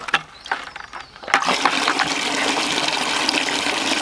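Water pours steadily into a container for a shower at an off-grid home, a continuous broadband rush that starts after a second of quieter movement and holds loud and even to the end.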